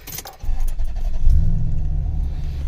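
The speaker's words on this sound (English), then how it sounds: "you want to turn on your truck so you can test out the blower" A 2000–2006 Toyota Tundra truck engine starts and settles into a steady, close low rumble, with a brief clink of keys just before it catches.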